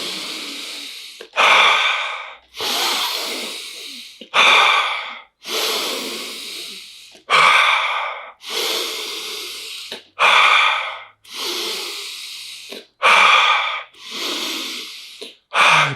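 Deep, forceful breathing during ice bath cold exposure: a steady rhythm of loud, close inhales and exhales, about ten breath cycles with brief pauses between, and no speech.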